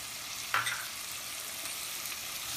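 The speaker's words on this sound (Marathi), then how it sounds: "हे सर्व मिक्स करून घेऊया" Dried bombay duck, potato and brinjal stirred together in a pan, a soft steady sizzle with one sharper clink of the spoon early on, otherwise even and quiet.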